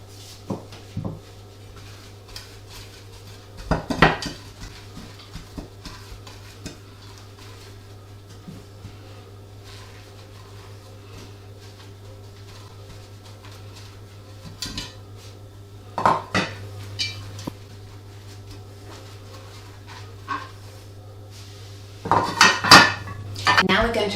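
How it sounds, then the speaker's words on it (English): Pie dishes clatter against one another while being buttered for mince beef and onion pies, with scattered sharp knocks and scrapes between quiet stretches and a busier burst of clinking near the end. "We're now going to butter our pie dishes."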